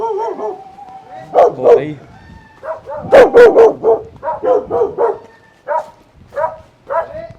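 A dog barks in an irregular series of loud, close yaps and whimpering yips, some bunched in quick bursts and others spaced apart, while a person briefly speaks.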